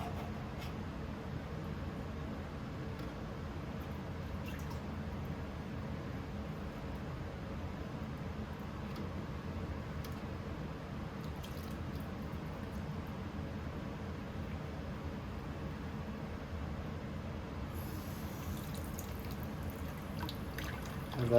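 Tap water runs in a thin, steady stream for rinsing morel mushrooms, a soft continuous hiss and trickle that stays even throughout, close by and fairly quiet.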